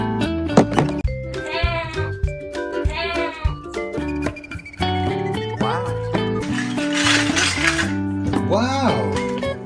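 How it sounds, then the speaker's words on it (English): A goat bleats in a series of wavering, quavering cries among other animal calls, loud and close, with some talk mixed in. "Goat."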